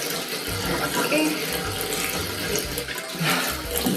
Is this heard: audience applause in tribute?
no